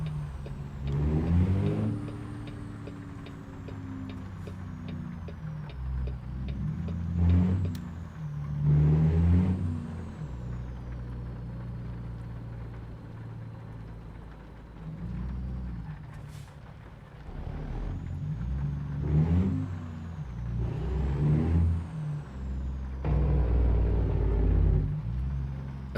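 A deep, low-pitched truck engine in American Truck Simulator rumbles and revs repeatedly through gear changes, rising and falling in pitch, with occasional hissing bursts like air brakes.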